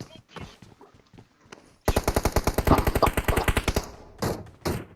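Rapid automatic gunfire in the mobile battle-royale game BGMI, a long burst of evenly spaced loud shots followed by a few more, with players talking briefly before and after.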